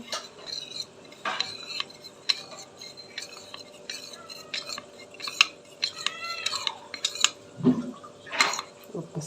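Flour-and-water paste being stirred into a pot of Rayalaseema-style vegetable soup, with repeated clinks and scrapes of a spoon against metal cookware, close and fairly quiet, some brief knocks between strokes.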